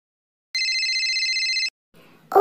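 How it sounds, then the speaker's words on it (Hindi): A mobile phone gives out an electronic ringtone: a single bright, steady tone lasting about a second that cuts off abruptly, followed by a short, louder noise at the very end. "कब से तुम्हारा फोन बजे जा रहा है, उठा लो"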